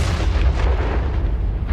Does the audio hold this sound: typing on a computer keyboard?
no